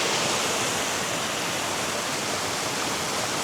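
Steady, continuous rush of falling water, broadband and constant throughout, with no voices or other sounds.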